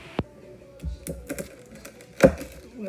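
Sharp knife slicing through the crusty, browned bottom of a leek katmer flatbread: a few crisp, separate crunches, one sharp cut near the start and a louder crackling cut later, close and fairly quiet with no talk.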